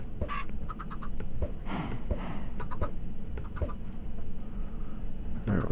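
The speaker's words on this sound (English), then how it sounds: "Let me make some chickens here." Chickens cluck in a Minecraft world, a steady run of short, repeated clucks over constant game background noise, fairly close and moderately loud.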